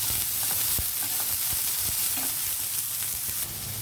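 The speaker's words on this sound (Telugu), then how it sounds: "ఉల్లిపాయలు కొద్దిగా వేగనిద్దాం." Onions sizzling steadily in a pan for a vegetable fry, a continuous close crackle broken by faint clicks and light stirring scrapes throughout, with no one talking.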